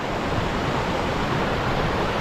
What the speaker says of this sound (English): So we're just above the waterfall here.